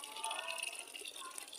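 Running water splashes over raw meat (goat or beef) being rinsed before cooking, a steady close gush with light splatter and no talk.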